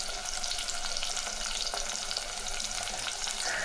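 Green chilies and curry leaves sautéing in hot oil for a tomato kuzhambu, a dense, steady crackling sizzle heard up close with no pauses and no voices.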